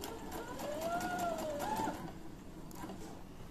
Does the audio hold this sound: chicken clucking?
no